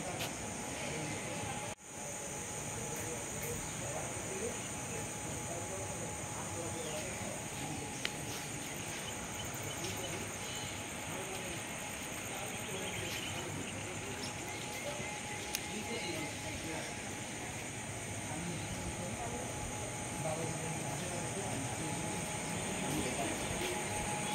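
Open railway station ambience at Nabadwip Dham with a steady hum and insect-like chirping throughout, a distant rumble of rail traffic, and faint voices in the background.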